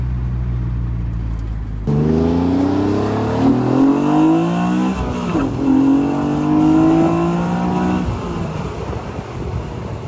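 A car engine revs and accelerates loudly and up close during a ride, its pitch climbing repeatedly through the gears with steady road and engine rumble throughout.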